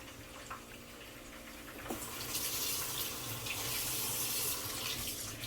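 Tomatoes washed under a running kitchen tap, a steady close rush of water into the sink that starts abruptly and continues evenly.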